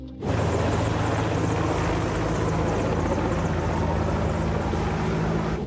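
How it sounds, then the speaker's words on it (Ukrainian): Helicopter fighting a fire at a huge pharmaceutical warehouse struck by missiles, its rotor a loud, steady droning roar with a low throbbing hum held throughout, close and continuous with no voices. "Пожежу гасили навіть гелікоптером."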